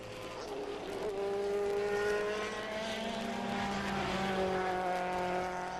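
IMSA GT race cars at Sebring, among them the Essex Buick and a green and white Pontiac Firebird, roar past in a loud, sustained engine blare whose pitch rises and falls as they go by.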